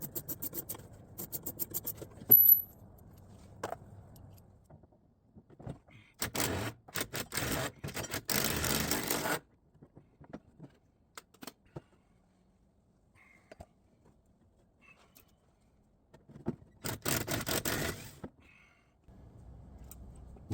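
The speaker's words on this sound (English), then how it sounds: "I just need to remove the two screws holding the wheel flare." Intermittent bursts of whirring and scraping as screws are driven out of a Winnebago Revel wheel flare, several separate runs with quiet gaps between them and no speech.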